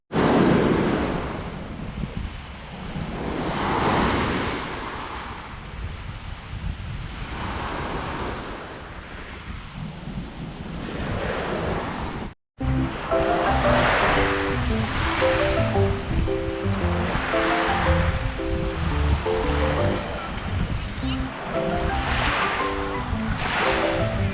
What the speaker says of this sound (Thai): ไปดูทะเลค่ะดูพระอาทิตย์ขึ้นกัน